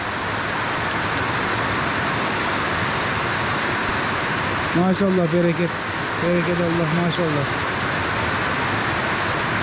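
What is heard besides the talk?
heavy rain falling on a cattle farm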